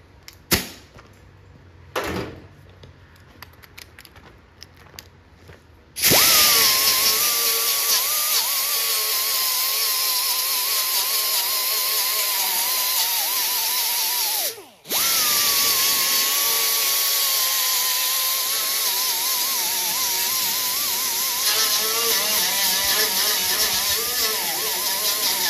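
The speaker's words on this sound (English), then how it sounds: "I ran into lead right there. So I'm gonna have to grind that off." A power grinder working lead off a 1964 Chevy Impala body panel, a loud whining drone that starts after a few scrapes, cuts out briefly mid-clip, then resumes steadily.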